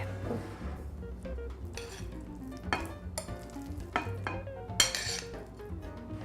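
Mashed sweet potato is stirred into eggs in a bowl for brownie batter, a spoon scraping and clinking against the sides in a run of short, close strokes with soft wet squelching.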